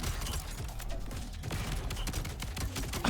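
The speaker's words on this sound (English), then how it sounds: "Oh, so that's an explosion." Dense, continuous gunfire and explosion bursts from an oversized gun in an action roguelite video game, loud and unbroken for the full length, layered with rapid crackling impacts and low booms.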